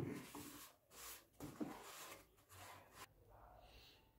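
Wax is rubbed by hand onto a wooden surface to protect it: soft, quiet rubbing strokes in an uneven back-and-forth rhythm, close up, with brief pauses between passes.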